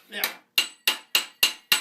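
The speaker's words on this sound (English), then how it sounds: "I'm using a flatter hammer now." A flatter hammer strikes steel being shaped for late 14th-century greaves in six sharp, ringing metallic blows, close and evenly spaced about a third of a second apart.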